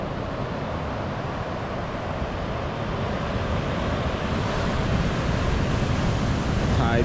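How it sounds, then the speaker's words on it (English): Ocean surf breaks in front of a Bali hotel, a continuous broad rushing wash of waves mixed with wind buffeting the microphone, steady and fairly loud. "Some good surfing waves here this morning out in front of the hotel."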